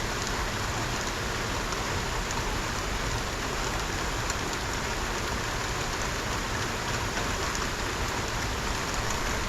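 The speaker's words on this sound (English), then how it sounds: "And it does rain here." Steady rain pours in Florida as a dense, constant hiss of drops hitting surfaces. It runs loud and unbroken through the whole clip, with no voices.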